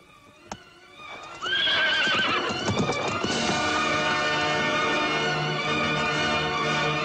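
A horse whinnies loudly and close, a long rising-and-falling neigh, with hooves clip-clopping beneath it, in a 1976 French fairy-tale film setting; a brief sharp knock comes first before the horse sounds fill the rest.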